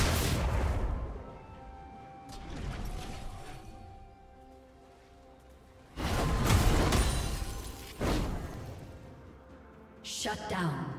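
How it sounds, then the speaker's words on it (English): A turret being destroyed in League of Legends: heavy booming blasts and crashing bursts in several loud waves, with fainter game effects between them. "team's turret has been destroyed."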